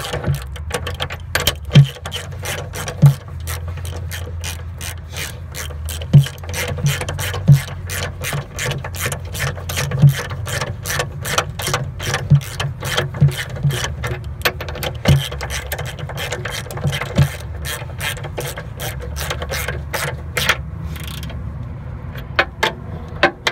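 Ratchet wrench tightening the bolts on a reshimmed caster wheel of a Yale stand-up forklift, with quick rapid clicking bursts repeated in short runs, close and fairly loud.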